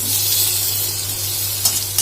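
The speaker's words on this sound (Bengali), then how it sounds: "দিয়ে দিচ্ছি আদা গ্রেট করে রেখেছিলাম, গ্রেট করা আদা আর গ্রেট করা রসুন, আর দিয়ে দিচ্ছি টমেটো কুচানো।" Grated ginger, grated garlic and chopped tomato hit hot oil in a pan, giving a loud, continuous sizzle with a couple of brief sharper crackles near the end, and no voices.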